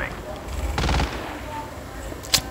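A short burst of rapid automatic gunfire in Call of Duty Mobile's Blackout mode lasts about a quarter second and is followed by one sharp crack, over a muffled in-game background.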